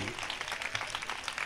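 A church congregation at a convention gathering claps in a dense, steady patter of many hands, fairly quiet and diffuse, with no talking over it.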